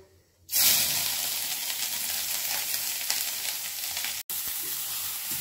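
A sudden loud sizzle starts as grated carrot hits hot ghee in a wok, then a steady crackling fry continues, briefly cutting out once near the end.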